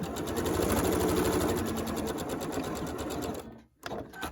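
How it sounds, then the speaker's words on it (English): A sewing machine stitches a zipper onto a zippered pocket with a fast, steady mechanical whir and rapid needle ticking. It runs continuously, close and clear, then stops briefly near the end before a short restart. "I'm just going to sew and finish this up."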